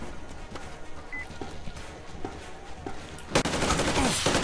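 Gunfire in the video game Metro Exodus, with scattered faint shots and footsteps at first, then a sudden loud burst of sustained firing in the final second.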